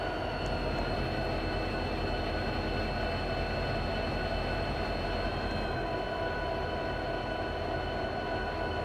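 Several locomotives run at once in a train video game, producing a steady, dense rumble with sustained whining tones above it that holds evenly throughout with no pauses.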